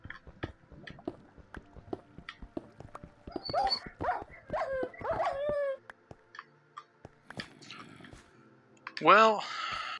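Dogs in a video game yelp, whimper and howl in scattered bursts, ending in a loud drawn-out howl, while someone talks over much of it.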